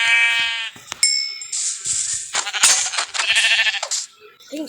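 Sheep in a block-building video game give a few short bleats, clear and close, mixed with bright chiming game sound effects.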